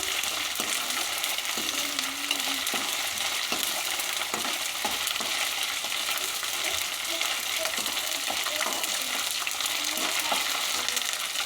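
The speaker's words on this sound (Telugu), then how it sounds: "అల్లం వెల్లుల్లి పేస్ట్ వేసుకొని ఫ్రై చేసుకోవాలి" Ginger garlic paste frying in a pan for an egg and potato curry, a steady close sizzle and crackle with occasional stirring scrapes and no voices.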